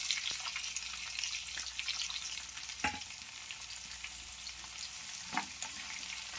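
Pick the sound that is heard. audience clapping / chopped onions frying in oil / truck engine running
chopped onions frying in oil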